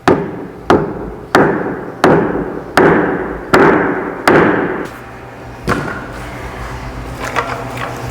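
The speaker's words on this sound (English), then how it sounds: "I'm just going to give it a slight little tap here with a dead blow mallet" Seven or eight sharp, evenly spaced dead blow mallet blows strike a metal van side-step bracket, each with a brief ringing decay, followed by quieter rattling.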